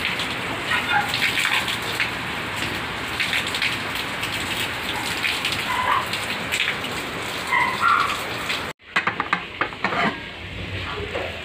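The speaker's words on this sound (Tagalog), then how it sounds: "umuulan" Steady rain pours down on surfaces outdoors at home, a dense continuous patter that cuts off abruptly near the end, leaving sparser drips and splashes.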